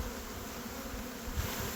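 Honeybees in a spring colony buzz as a steady, dense hum that fills the whole stretch, with a slight swell near the end and no voices.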